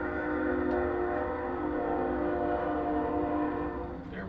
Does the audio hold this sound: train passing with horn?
yes